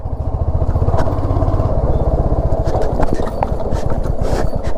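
A Hunter 350 motorcycle rides slowly over a rough, bumpy road at low speed, its engine thumping steadily and loud and close, with rattling clatter from the bumps throughout.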